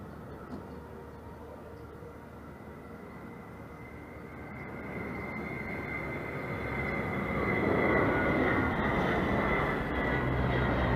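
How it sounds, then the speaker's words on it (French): A Dassault Atlantique 2 maritime patrol aircraft roars past at an airshow with its bomb bay open, a steady heavy engine drone that swells louder toward the end as it passes close by. "Et il nous gratifie d'un passage soute ouverte, cet avion."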